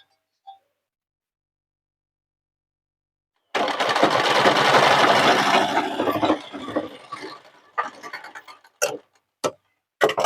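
A sewing machine stitches a nurse's uniform in a steady, close burst of several seconds. Its running fades into a few short stop-start runs with gaps, and no one speaks.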